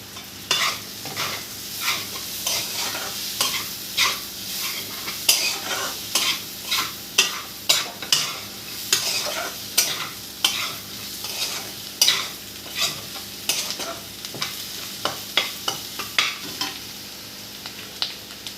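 Onions fry with chili powder in a pan, a constant sizzle under a long run of rhythmic spatula scrapes and knocks, many strokes in close succession, heard up close with no talking.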